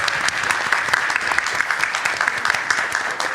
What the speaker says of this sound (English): I'll take another round of applause for Mako